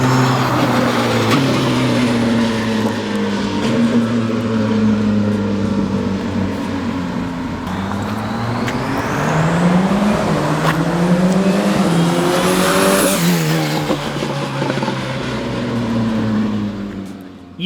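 Turbocharged K20-swapped Ferrari driven hard on a street, a loud interior engine note climbing and dropping through fast hard shifts with turbo whoosh and some road noise, sustained throughout.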